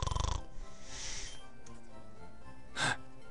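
A sleeping Pokémon snores in the game Pokemon Terra, a few soft snorting, wheezing breaths with one louder gasping inhale near the end, faint against a quiet background.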